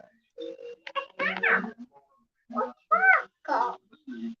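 A house cat meows indoors in a series of short, clear cries, some rising and falling, with pauses between them and no other sounds around.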